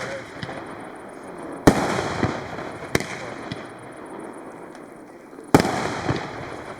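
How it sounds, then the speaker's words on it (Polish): Two-inch firework shells fire high into the sky at an outdoor pyrotechnics display in Czechia, giving three sharp, loud reports spaced a few seconds apart, each trailing off into a fading crackle and rumble. "Z 80 do 100 metrów leci, chyba najwyżej strzelająca dwucalupa."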